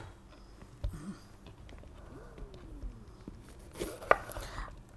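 Garlic being chopped or crushed for a tomato salad in a home kitchen, a few sparse, sharp knife knocks against a board, fairly close, with a louder cluster of strikes near the end and no one speaking.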